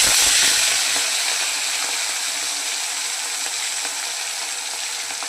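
Pieces of rohu fish dropped into hot oil set off a loud, dense, steady frying hiss that swells at the start and then holds evenly, close and without voices.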